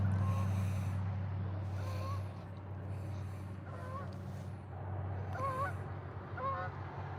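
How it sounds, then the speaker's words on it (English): Canada geese honk repeatedly over a reservoir as they come in to land, the calls spaced out at moderate distance above steady low ambient rumble and water noise. "You guys see the honkers just land?"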